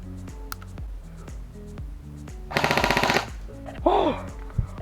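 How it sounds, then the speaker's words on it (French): An airsoft replica rifle fires one rapid full-auto burst until its magazine runs dry, a loud chattering string of shots lasting under a second, set against a steady tonal background with a few scattered clicks. "on va faire la petite rafale jusqu'à vider le chargeur"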